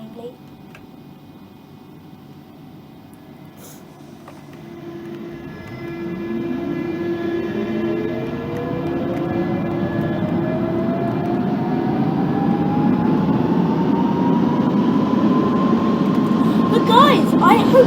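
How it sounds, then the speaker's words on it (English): A Central Line train in the Open BVE simulator game pulls away, its motor whine rising steadily in pitch as the rumble builds and grows louder over many seconds. "if I now start the train"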